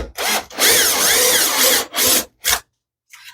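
A power drill boring into wood in several loud bursts, with a long whining run followed by shorter spurts and brief stops between them.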